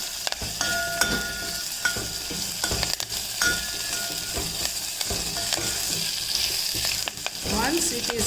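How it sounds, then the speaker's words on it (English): Green chilies frying in hot oil in a pan, a continuous close sizzle with occasional stirring scrapes and clinks running throughout, no voices. "Let it fry for some time."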